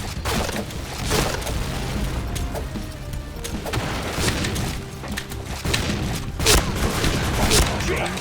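Rapid bursts of gunfire and heavy booms from a team shooting video game with a sniper, dense and continuous, with loud excited voices talking over the shooting throughout.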